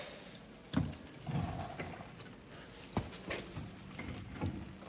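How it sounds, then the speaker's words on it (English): Gasoline draining out of a John Deere 50 tractor and splashing into a pan beneath it, an irregular patter of drips and short gushes, close by, with no voices. "Raining gasoline under here."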